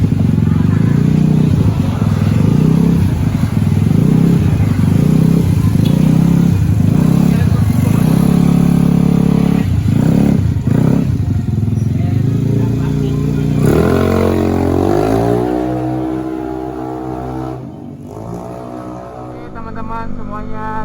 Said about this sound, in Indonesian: selanjutnya Mas Iqbal akan mencoba motor gua di jalan.